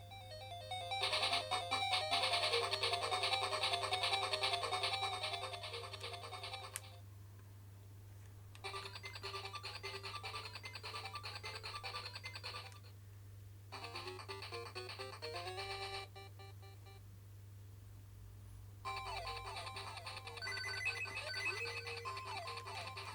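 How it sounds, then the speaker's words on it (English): Sonic 2 game music plays loud and steady from a Sega Game Gear handheld under repair for sound and screen faults, bright chiptune melody in several sections with short gaps and a constant low hum beneath. "We'll start with Sonic 2."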